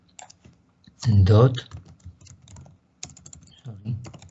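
Computer keyboard typing in short clicky bursts, close and moderately loud, with a speaking voice partly overlapping the keystrokes.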